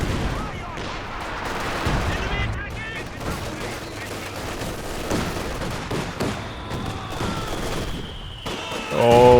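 Repeated explosions and gunfire from an artillery barrage in the World War II strategy game Company of Heroes 2 rumble continuously under a commentator's voice, with a louder blast near the end.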